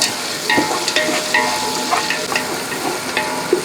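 Thinly sliced onions tossed into hot oil and stirred for vegetable biryani, a loud close sizzle with repeated scraping and clinking of a spatula against the pan.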